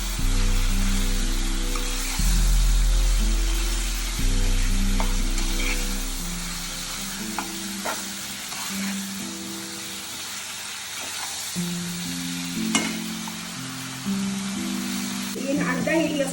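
Ground onion and tomato paste sizzles and fries in a pan for chicken curry, stirred steadily throughout with a continuous loud frying hiss and occasional utensil scrapes, over a low background hum.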